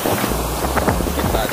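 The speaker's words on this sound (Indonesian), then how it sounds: "Agak gede ombaknya." Surf breaking on a sandy beach at high tide in the afternoon, rolling continuously with wind buffeting the microphone, and a voice talking over it.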